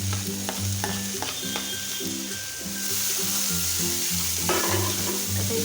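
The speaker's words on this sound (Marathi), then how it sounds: "त्यानंतर सिमला मिरची आणि ह्या कोबी घालून घ्यायचं आहे कोबी घातल्यानंतर आपल्याला इथे गाजर घालून घ्यायचं आहे" Capsicum, cabbage and carrot stir-frying in a pan, an even sizzle under repeated scraping strokes of a spoon, close up, with a low steady hum running beneath and no speech.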